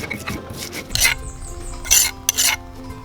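At a Balinese cooking class in Ubud, a utensil stirs spices in a cooking pot, giving a few scraping, rasping strokes against the pot with soft clinks between them, close and moderately loud, with no talking.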